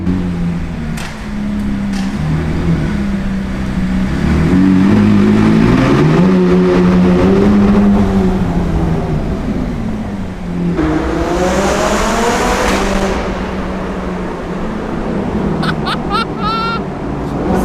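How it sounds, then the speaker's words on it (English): A supercar's engine climbs and revs hard toward redline on Hong Kong streets, rising and falling in loud sweeps with wind rush and a passenger's voice over it. "It's actually my first time redlining this car."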